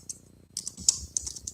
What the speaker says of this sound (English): You are still typing into this